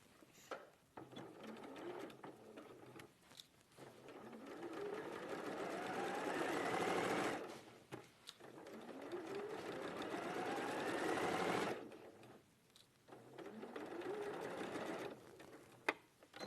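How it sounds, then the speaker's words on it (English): A sewing machine stitches a quarter-inch seam with the fabric right sides together, a close, steady mechanical whir that runs in long bursts and stops briefly between passes. "sew that right sides together with 1/4 of an inch seam allowance"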